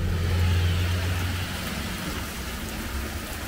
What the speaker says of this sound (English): it was just drizzling a little bit